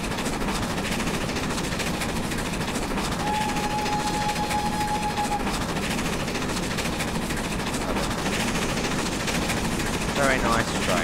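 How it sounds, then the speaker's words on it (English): A 1950s steam-era express train runs on the Riviera Line in Train Simulator, giving a steady, continuous rumble and rhythmic rail clatter throughout, with a brief faint whistle-like tone partway through and speech-like sounds mixed in. "Very nice train."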